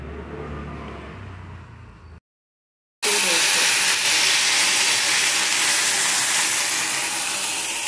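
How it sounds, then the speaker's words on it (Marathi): Hot water poured into a pan of roasted lapsi (broken wheat) hits with a loud, broad hiss and sizzle that surges up after a short break and holds steady, close and strong, for several seconds. "आता भाजलेल्या लापसीमध्ये छान गरम झालेले पाणी ओतून घ्यायचे।"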